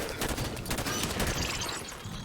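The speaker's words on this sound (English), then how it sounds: "Oh my god, that's a lot of gunfire." Heavy gunfire rattles through a Halo video game firefight, a fast overlapping fusillade of automatic bursts and shots, fairly quiet overall but continuous.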